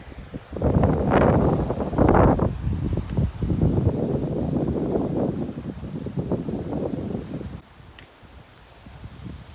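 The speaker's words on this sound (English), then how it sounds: "A lot of wind in here." Strong wind gusts through a treed mountain draw in Devil's Head valley, loud buffeting rushes hitting the microphone in waves before easing near the end, with no one speaking.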